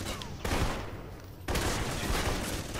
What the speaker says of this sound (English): this blind fire thing is a lot more accurate than the friggin' assault rifle regular fire is